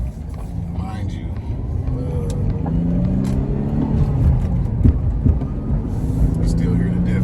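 An Infiniti G35 sedan with a six-speed manual gearbox is driven, its engine note droning and climbing through the revs inside the cabin with a steady road rumble underneath.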